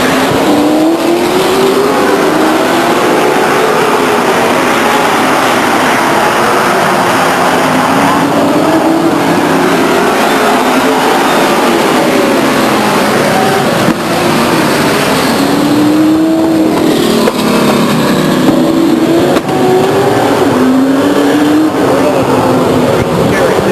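Race cars roar down the backstretch at Stockton 99 Speedway, a dense, loud engine drone with rising and falling pitch sweeps as cars pass, continuous throughout under a race announcer's commentary.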